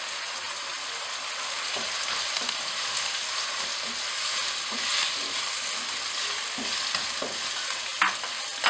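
Tomatoes hit hot, sizzling masala in a pan for vegetable masala Maggi, bringing a bright, steady frying hiss with occasional stirring taps and scrapes, close and clear, with no voices.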